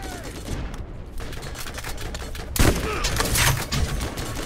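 Grenade blast and rapid gunfire in the video game Borderlands, a dense rattle of shots building to a loud broadband explosion about midway, followed by continued close, busy firing and crackling debris.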